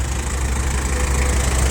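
A tractor's diesel engine, fitted with a front loader, idles steadily nearby, a smooth low rumble with even knocking, no voices.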